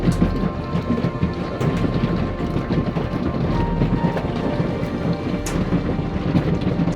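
Heavy rain pours during a big thunderstorm at a tiny house, with loud, close rumbling thunder rolling under the steady downpour and no voices.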